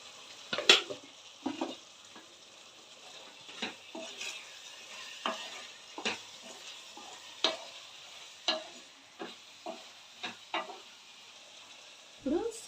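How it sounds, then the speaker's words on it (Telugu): Chicken curry sizzles softly in a pan after chili powder goes in, with a spoon scraping and tapping the pan in irregular clicks every second or so, faint and close, with a sharper clatter near the end. "ఇప్పుడు ఇందులో కారం కలుపుకుందాం."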